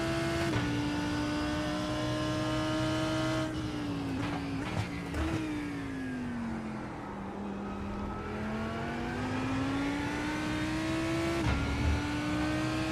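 Race car engine in iRacing, a loud, continuous drone that rises and falls through gear changes and braking, with a few sharp shifts and a steady close-up roar throughout.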